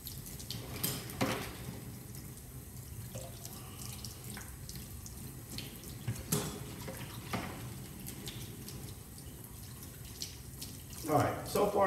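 A carbon fiber drone frame being washed in soapy water in a sink, with intermittent splashing, dripping and sloshing, moderately quiet with a few louder sharp splashes and a brief faint clatter near the end.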